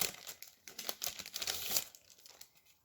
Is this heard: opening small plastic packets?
yes